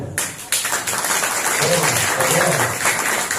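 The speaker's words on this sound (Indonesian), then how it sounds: "Nah, tepuk tangan." Applause rises from a gathered audience at an evening religious study session near Surabaya, a dense wash of clapping that starts abruptly and holds steady, with a voice speaking over it.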